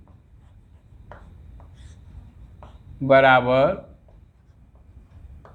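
Chalk or marker scratching numbers onto a board in a classroom, a few faint short strokes at intervals, with a teacher's voice speaking in the middle.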